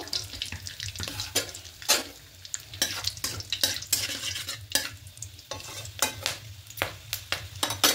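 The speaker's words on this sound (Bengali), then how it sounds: "এবার এই তেলের মধ্যে গোটা গরম মশলা ফোড়ন দেবো, দারুচিনি, এলাচ আর লবঙ্গ।" Whole cinnamon, cardamom and cloves sizzle in hot oil in a pan, a steady crackling fry broken by repeated scraping stirs of a spoon, fairly close and with no voices.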